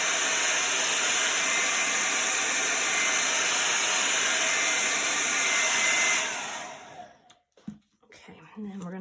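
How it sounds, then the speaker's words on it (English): A blow dryer or heat gun drying a chalk transfer roars as a loud, steady whoosh with tonal whine for about six seconds, then switches off, leaving brief handling noises. "point your blow dryer away or your heat gun away from it"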